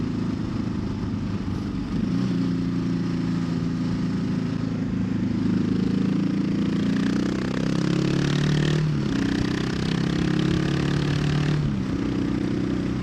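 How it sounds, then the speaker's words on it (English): A loud motorcycle with a loud exhaust rumbles steadily while being ridden along a trail, close and continuous. The engine note rises and falls with throttle changes, and no voices are heard over it. "feel a bit funny riding a bike so loud"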